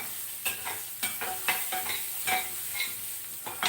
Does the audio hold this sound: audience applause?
no